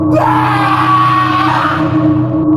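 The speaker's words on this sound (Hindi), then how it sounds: "आज भी उनकी चीखें हवेली के अंदर से बाहर सुनाई देती हैं" A sustained, loud anguished scream rings out continuously for over two seconds as a horror effect suggesting a haunted mansion, with a tonal, wailing quality and no talk over it.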